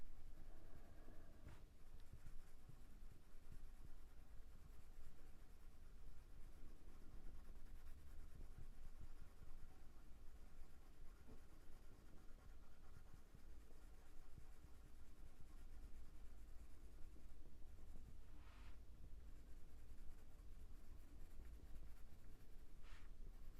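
Sepia colored pencil shading on paper, a soft, steady, continuous scratching of lead strokes, quiet and close, with no talk over it.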